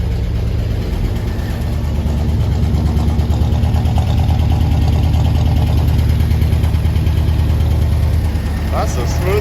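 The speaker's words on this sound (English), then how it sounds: "That's the smoothest that thing has ever fired up." A 1974 International pickup engine idles steadily just after starting, a loud, continuous low rumble with a rough, slightly busy top end, close by and running throughout.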